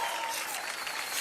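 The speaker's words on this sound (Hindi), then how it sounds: "जोरदार तालियां रानी जी के लिए।" Audience applause welcoming a guest on a Hindi comedy show, a brief burst of dense, even clapping from a studio crowd, steady throughout.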